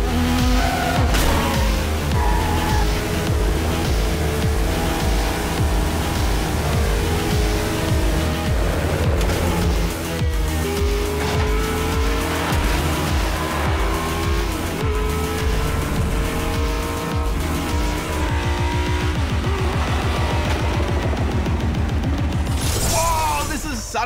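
Race cars roar through Trackmania Turbo with continuous loud engine whine, gear-shift sweeps, tire squeal and crash effects under upbeat game music, a dense nonstop mix that swells briefly near the end.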